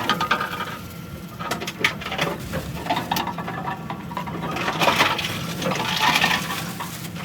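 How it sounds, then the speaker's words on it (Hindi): Clattering plastic bottles tumble and crunch inside a bottle recycling machine in Japan, with irregular rattles and knocks over a steady mechanical rumble. "ये रिसाइकलिंग की भी आपको आवाज़ सुनाई दे रही होगी।"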